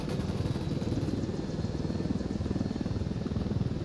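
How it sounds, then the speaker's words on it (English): Helicopter in the Ghost Recon Wildlands video game, a steady close rotor chop and engine drone, loud and continuous with no talk. "Get in the chopper."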